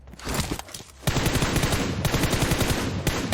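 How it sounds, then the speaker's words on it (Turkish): Rapid bursts of gunfire in PUBG Mobile, sparse and quieter at first, then a dense, loud, continuous automatic barrage with no talking. "Evet silah seslerini aldık."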